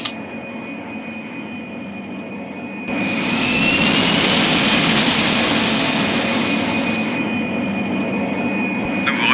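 Jet airliner engines spooling up for takeoff in the Pink Panther video game, a steady loud roar with a high whine that surges and thickens after a few seconds, then holds a sustained rushing drone.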